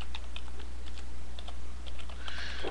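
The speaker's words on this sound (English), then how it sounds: "Let me type it in here." Quick bursts of clicking keys on a computer keyboard, close and fairly loud, tapping in an uneven rhythm over a steady low hum.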